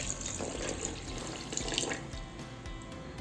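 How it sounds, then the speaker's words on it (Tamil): Water poured into a container to cover homemade butter made from milk, a steady close splashing stream that runs continuously throughout without pause. "இப்போ இதில் தண்ணி ஆட் பண்ணிக்கலாம்"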